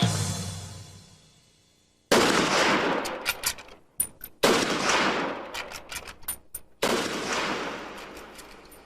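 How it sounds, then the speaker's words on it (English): Three rifle shots crack out in quick succession, each a loud sharp report followed by fading echo, spaced a couple of seconds apart within about five seconds. "Oswald would have had only 5 seconds to fire the 3 shots"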